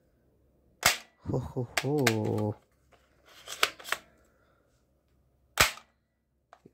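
A toy Winchester-style shell-ejecting rifle fires several sharp, loud cracks with mechanical clicks in between, while a man calls out excitedly over the shots.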